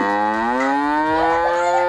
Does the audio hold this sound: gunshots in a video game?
no